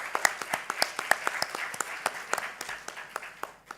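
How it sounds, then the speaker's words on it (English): Scattered applause from a small group at a conference, with distinct individual claps rattling along unevenly for a few seconds. "give another round of applause"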